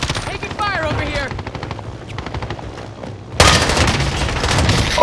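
Rapid automatic gunfire crackles in Call of Duty Warzone, a sustained burst of close shots followed by a louder, denser volley, with a player's voice briefly audible over the start.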